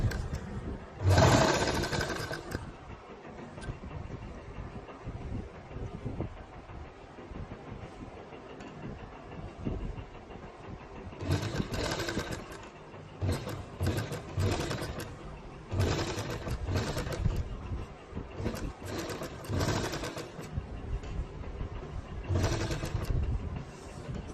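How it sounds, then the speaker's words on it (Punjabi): A sewing machine stitches lace along the edge of a round neckline in repeated fast bursts of rattling stitching, close and loud, separated by short quieter pauses with no talking. "ਇੱਥੇ ਆਪਾਂ ਸਿਲਾਈ ਲਾਉਂਦੇ ਬਿਲਕੁਲ ਕਿਨਾਰੇ ਕਿਨਾਰੇ"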